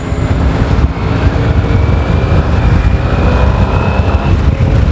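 A Honda CG motorcycle engine runs at a steady idle close by, a constant low rumble with a busy mechanical patter and no voices.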